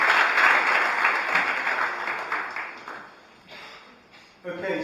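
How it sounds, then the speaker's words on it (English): Conference audience applauding at a technology concertation event in Brussels, a steady broadband patter of clapping that thins and fades toward the end before a brief final burst. "We have another round of applause,"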